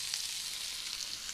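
Onions sizzling steadily in a hot pan in a home kitchen in Thailand, a dense, even frying hiss held close and continuous, with faint stirring textures and no talking.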